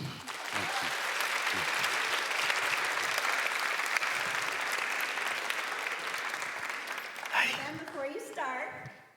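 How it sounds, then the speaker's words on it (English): A large university convocation audience gives sustained applause and cheering for Ben Talley, dense and loud throughout before tapering near the end, where voices rise through the fading claps. "So let's give a big LU cheer for Ben Talley."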